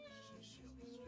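A studio cat meows in a quiet indoor room, a soft drawn-out call with harmonic tones, fairly faint and close, with faint voices in the background.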